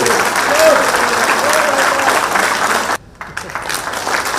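A hall crowd at a Jharkhand Administrative Service Association felicitation of Chief Minister Hemant Soren gives loud, sustained applause, many hands clapping densely and evenly, with a sudden brief dropout before the clapping picks back up.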